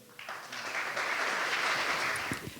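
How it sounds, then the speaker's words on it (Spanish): Audience applause at a Colombian school community event, a steady broad wash of clapping that swells quickly and holds for a couple of seconds, moderately near, with no talk over it. "Adelante, un aplauso para ellos."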